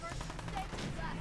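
Rapid pipe-pistol gunfire from enemies in Fallout 4 crackles as a quick burst of shots over game background noise, moderately faint.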